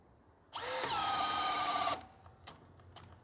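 A Bosch GSB 185-LI cordless drill bores into hard wood with a single loud, high whining run of about one and a half seconds that starts and stops abruptly. A few faint clicks follow, with no speech.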